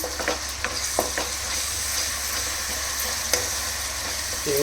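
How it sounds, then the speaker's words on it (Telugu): Chicken and yogurt being stirred in a frying pan for chicken fry piece biryani, with steady sizzling and a few sharp spoon scrapes and taps against the pan, close and alone. "ఇది మొత్తం ఒకసారి మిక్స్ అయ్యే విధంగా కలుపుకుందాం."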